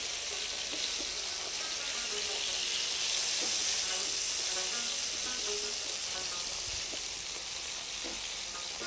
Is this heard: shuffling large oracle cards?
no